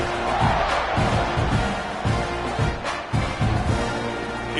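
A roaring football stadium crowd fills the air before a kickoff, a dense, steady wash of cheering and shouting with swelling surges, loud and continuous throughout.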